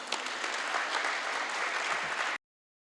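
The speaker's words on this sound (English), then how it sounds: "Give them a round of applause." Audience applause for the Exxon team at a one-year anniversary celebration for a helicopter company in Guyana, a steady wash of clapping from a crowd that runs evenly and then stops abruptly.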